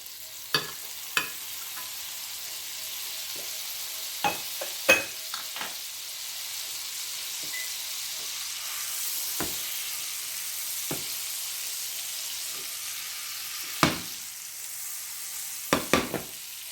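Two tablespoons of butter sizzle in a skillet before crab cakes are fried, a soft steady crackle with scattered sharp pops and clicks throughout.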